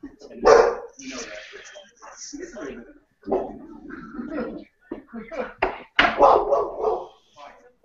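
A dog barks and yips in short bursts, close by and fairly loud, while several people talk throughout an indoor gathering watching the 2014 NFL Draft.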